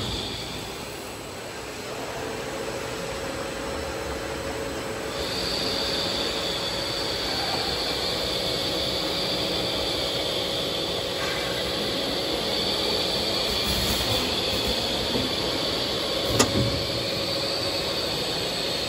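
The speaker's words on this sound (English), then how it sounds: "the filling machine will start to fill the liquid into the bottles" A gravity filling machine on an energy drink bottle line fills bottles with a continuous mechanical hum and a steady high whine, joined by a brighter tone a few seconds in and a faint click near the end.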